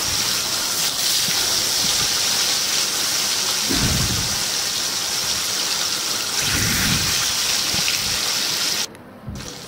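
Loud, continuous sizzling hiss of turmeric-coated fish frying in hot oil, with a few dull thumps, cutting off abruptly at the end.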